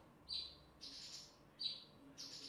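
A murai batu (white-rumped shama) songbird, kept as a contest bird, gives short, bright chirping phrases in two bursts, close and clear against a quiet background.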